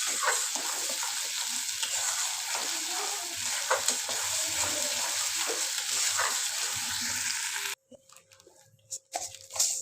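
Spice paste for Bengali prawn malai curry sizzles and fries steadily in a pan with stirring scrapes, loud and continuous, then cuts to near silence with a few faint clatters at the end.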